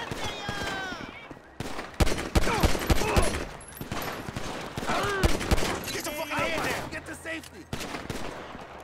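Gunfight from the video game GTA 5, with bursts of rapid gunfire and single shots cracking throughout, loud and close, mixed with shouting and talking voices over the shooting.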